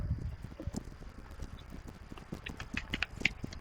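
Horse hooves clip-clop steadily in a video game, faint and distant, as a group of riders heads back toward an outpost, with no talk over it.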